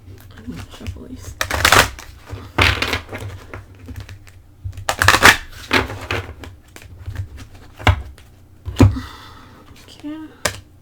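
A deck of angel advice cards is shuffled by hand in several bursts of crisp riffling and slapping, close by and separated by pauses.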